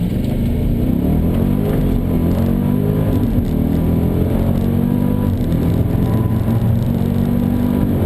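Supercharged 2014 Jeep Grand Cherokee SRT8 pulling away hard from a standstill, a loud, steady engine roar with rising pitch as it revs up through the gears, heard from inside the cabin.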